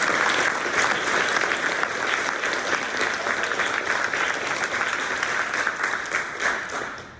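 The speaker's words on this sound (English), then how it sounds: "Please let's give him a round of applause for all of his hard work." Dense, sustained applause from a school audience for the departing student president, loud and even for about seven seconds before beginning to taper off at the end.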